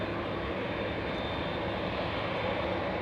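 Southwest jet airliner landing at LAX, a loud, constant roar of jet engines with broadband rumble and a faint high whine throughout, heard alone without talk.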